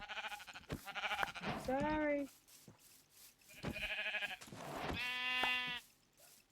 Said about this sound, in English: What up, sheep?